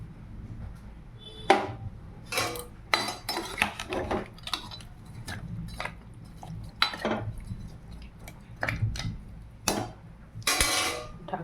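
Fried papaya and potato pieces tipped into a pressure cooker, a run of irregular metallic clinks and clatters from spoon and pot, close and sharp, with quiet gaps between.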